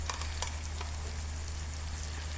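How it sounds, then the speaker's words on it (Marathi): Ground spice paste fries in oil over low heat, a soft, steady sizzle with a few crackles over a low background hum. "आता हे मसालेसुद्धा तेलामध्ये छान भाजून घ्यायचे आहे"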